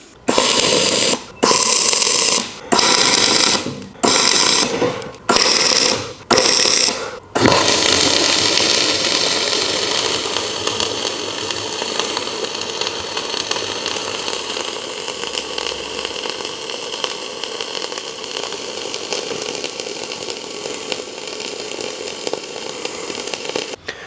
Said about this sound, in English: I'm going to go ahead and get this tacked on, and then I'll start welding it out